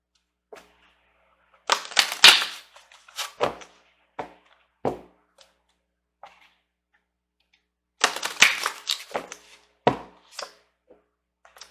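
Tarot cards drawn and shuffled from a deck, two bursts of quick crisp card slaps and flicks separated by a pause, with scattered single taps between them, close and fairly quiet.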